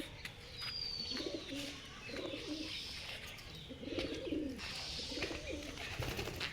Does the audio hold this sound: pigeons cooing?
yes